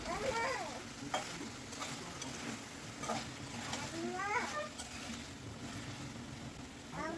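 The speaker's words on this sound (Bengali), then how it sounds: "দু মিনিট পর ঢাকনাটি খুলে আবারও খুব ভালোভাবে নেড়ে দিচ্ছি" Egg and potato curry being stirred in a pan, with faint spoon scrapes and a soft sizzle over a steady low background hiss throughout.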